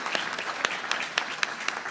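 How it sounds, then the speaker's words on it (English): Audience applause at a National R&B Hall of Fame induction ceremony, a steady dense clatter of clapping hands with sharper individual claps standing out, moderately loud and without voices. "let's give him a big round of applause for that."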